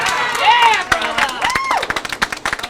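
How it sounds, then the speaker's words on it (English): A vociferous hometown crowd at a bowling championship match cheers and claps loudly, with a broadcast commentator's voice running over the roar before it breaks into scattered, rhythmic clapping. "He's got the hometown crowd on his side, no doubt about it. And they are vociferous."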